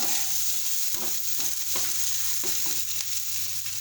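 Onions frying lightly in oil for a green chili mash, a steady close sizzle with a few soft stirring clicks scattered through, no voices.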